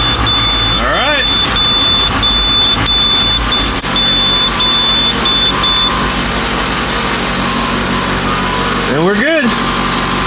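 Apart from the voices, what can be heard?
diesel engine started and running at about 1,000 RPM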